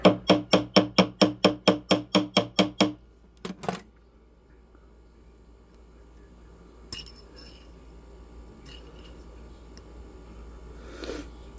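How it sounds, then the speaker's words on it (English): Rapid, evenly spaced metallic taps from a ball peen hammer on the bottom of a metal piece ring out in a quick series, then two more knocks, followed by quiet room noise and a faint clink. "let's do a little tapping on the bottom here with our ball peen hammer"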